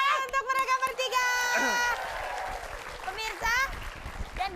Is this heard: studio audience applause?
yes